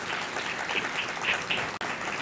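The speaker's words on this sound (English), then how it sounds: "can we give them a round of applause for their leadership?" Audience applause at a school district review event, a steady wash of clapping from a crowd, moderately loud and continuous with no talk over it.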